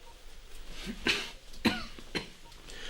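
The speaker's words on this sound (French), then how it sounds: "Vous toussez" Three quiet coughs in a row, each a short rough burst, heard alone against a faint background.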